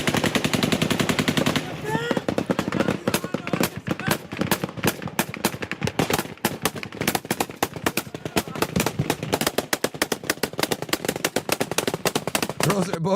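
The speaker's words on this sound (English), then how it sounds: "Bros are using them AK-47s" AK-47 rifle fire during street fighting in Syria: loud, rapid automatic bursts crack almost continuously, with dense overlapping shots and little pause between volleys.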